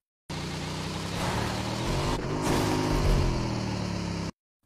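A motorbike in PUBG on the Erangal map drives into a blue shipping container, its mid-pitched engine revving steadily and loud for about four seconds, then cutting off abruptly.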